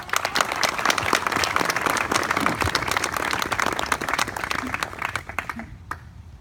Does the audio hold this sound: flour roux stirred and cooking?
no